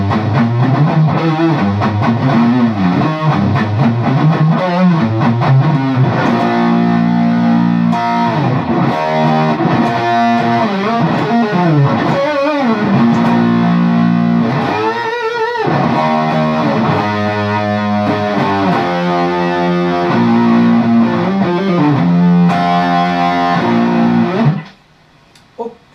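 A Brian May Red Special electric guitar plays a full-volume rock passage on a bass-heavy pickup switching setting, with thick distorted chords and riffs sounding continuously and loudly before ending abruptly near the close.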